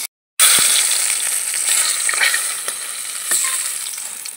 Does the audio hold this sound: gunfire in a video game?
no